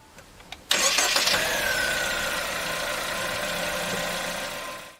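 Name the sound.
DFSK 1.5 litre turbo DVVT car engine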